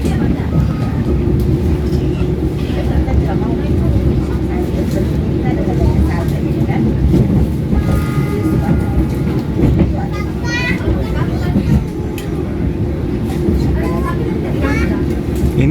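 A KRL CRRC electric commuter train on Indonesia's Jakarta line passes close by with a loud, continuous rumble and rattle of wheels and cars, with faint voices in the background.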